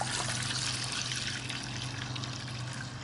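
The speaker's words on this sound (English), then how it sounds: "fill it up with water" Water pours steadily into a container being filled to the max fill line for cleaning a lawnmower carburetor, a continuous close, even rush and trickle lasting throughout.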